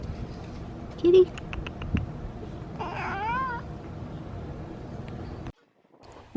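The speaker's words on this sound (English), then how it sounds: "Kitty." A cat gives a single drawn-out meow at moderate distance, partway through a steady background hiss, while cornhole boards are being built. A brief sharp knock comes just before it, and the noise cuts out near the end.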